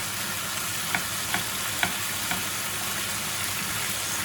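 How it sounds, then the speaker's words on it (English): Tomatoes sear in a pan with little liquid, giving a steady close sizzle broken by four evenly spaced light taps of a utensil. "So the tomatoes will sear as well, because there is not a lot of sauce and juice"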